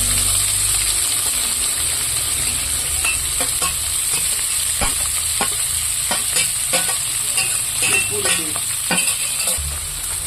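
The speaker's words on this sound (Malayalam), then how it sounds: "ഇനി ഇതിലേക്ക് അരിഞ്ഞു വെച്ചിരിക്കുന്ന കൊച്ചുള്ളി പച്ചമുളക് ഇട്ട് കൊടുക്കാം." Chopped shallots and green chillies frying in a pan with curry leaves for muringakka theeyal, a bright continuous sizzle punctuated by repeated stirring scrapes and clicks, close and fairly loud, without speech.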